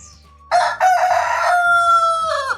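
A rooster crows loudly and close by, one long drawn-out call rising and then holding steady before it trails off.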